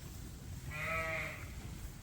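A young lamb gives one short, clear bleat, fairly near and alone against a quiet outdoor background.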